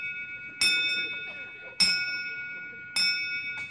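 Ship's bell struck in a sequence counting five bells, three bright metallic strikes spaced over a few seconds, each ringing on with a long sustained tone and clear overtones, heard fairly close with faint background between strikes.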